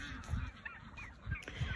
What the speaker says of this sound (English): these are our Thanksgiving turkeys